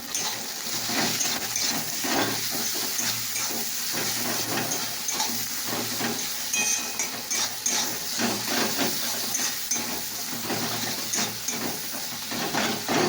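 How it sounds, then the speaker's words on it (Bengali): Steady hissing sizzle of food with salt and turmeric frying in a pan, continuous throughout with light stirring scrapes and faint crackles. "এটা এখন ভাজতে হবে একটু"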